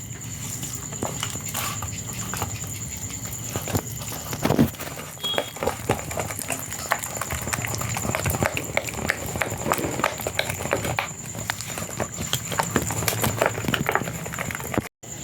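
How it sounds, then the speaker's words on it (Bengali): Hands knead and squish a batter of palm pulp, salt and a little flour in a bowl, producing dense, irregular wet slaps and squelches that continue steadily up close. "এবার সব কিছু ভালো করে মাখিয়ে নেব।"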